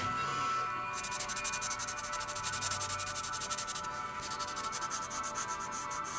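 Pastel rubbed and blended on paper, a close, continuous scratchy rubbing in quick back-and-forth strokes with a brief pause near the middle, no voices.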